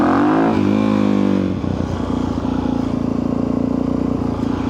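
A Suzuki DRZ 400 supermoto single-cylinder engine, warmed up after a choke start, revs up loudly and then drops into a steady, throbbing idle close by.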